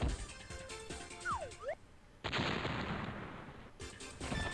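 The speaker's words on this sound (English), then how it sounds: "guy's gonna throw a bomb at them." Bombs burst in the Snowboard Kids 2 video game, a loud booming explosion with a long noisy rumble, preceded by quick chirpy game effects and followed by another short blast.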